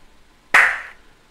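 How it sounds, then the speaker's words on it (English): A single clap drum sample plays in Samplitude Pro X6, one sharp bright hit with a short decaying tail, loud and isolated against silence. "that's like a clap"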